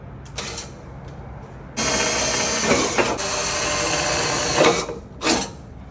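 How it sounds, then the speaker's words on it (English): A power drill bores holes into a wall for anchors, with a short whir first and then a loud sustained grinding burst of a few seconds, followed by brief clicks and bumps. "So here I'm gonna probably drill 3 holes, 1, 2, 3, maybe more depending on how much you need."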